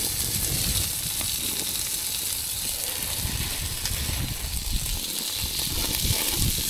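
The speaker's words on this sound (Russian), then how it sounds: "Мясо жарится как будто бы, да?" Loud, continuous sizzling and crackling of meat frying, a dense hiss with scattered pops, close up and without talk.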